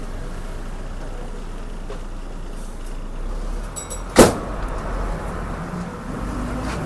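A bus turns on a winding hilly road at Chennanpara near Vithura in heavy rain, its engine a steady low rumble from inside with a brief sharp knock or clatter midway.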